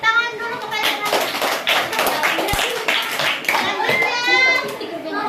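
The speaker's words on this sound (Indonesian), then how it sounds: "beri tepuk tangan dulu kepada teman-teman." Children in an Indonesian classroom clap together in a dense, steady burst of applause, with kids' voices chattering over it throughout.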